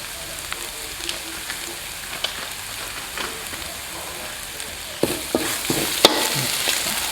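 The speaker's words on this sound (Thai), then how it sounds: "ก็ใส่ลงไปผัดด้วยเลยครับ" Garlic, pepper, coriander root and five-spice palo powder stir-frying in a pan for old-style stewed eggs: a steady close sizzle broken by scraping stirring strokes that grow busier and louder toward the end.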